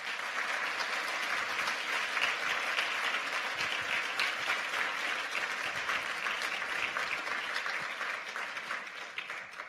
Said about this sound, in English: So if we could just do one more round of applause for